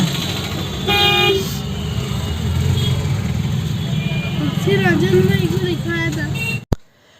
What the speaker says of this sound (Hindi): छठ पूजा में बहुत ही रौनक लगता है मार्केट में। आप देख ही सकते हो कितना भीड़ है।